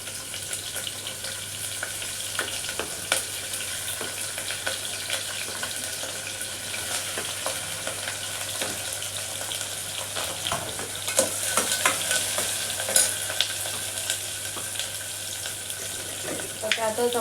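Onion and chili frying in hot oil with cumin and curry leaves, a continuous close sizzle broken by spatula scrapes and stirring clatter, growing a little busier toward the end.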